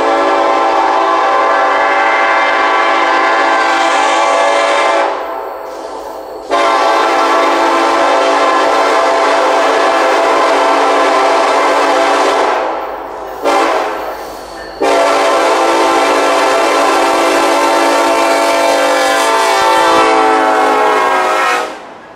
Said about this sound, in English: The train was NS-733, empty coal hoppers from Memphis, Tennessee